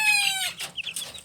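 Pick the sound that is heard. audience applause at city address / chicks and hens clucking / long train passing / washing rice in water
chicks and hens clucking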